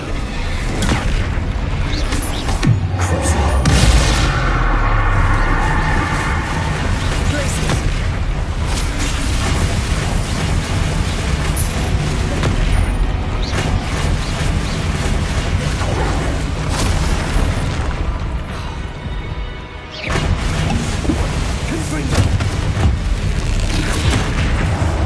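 Loud, continuous spell-combat effects from Hogwarts Legacy, with booming fire-spell explosions and blasts layered over a dense, unbroken wash of game sound for the whole stretch, one heavier burst near the start.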